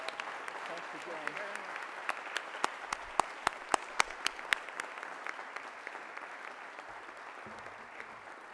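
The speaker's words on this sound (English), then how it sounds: "Could we give a round of applause for our speaker?" An audience at a press club luncheon claps for the speaker, a steady patter of many hands with sharp individual claps standing out, moderately distant, slowly thinning out toward the end.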